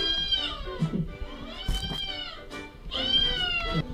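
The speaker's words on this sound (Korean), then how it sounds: "역시 본인 울음소리에도 반응이 없네요" A ginger tabby cat's recorded meows are played back in a room, several drawn-out, wavering cries in a row, fairly close and clear, with a short pause before a final stretched meow.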